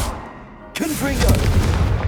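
Confringo blasting curse explosion in the video game Hogwarts Legacy: a sudden loud burst after a quiet lead-in, then a sustained rumbling blast with swirling tonal effects trailing off.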